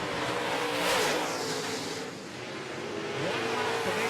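Late model race cars roar around an oval track, a continuous engine drone that swells and fades as cars sweep past, heard from a distance with no talk.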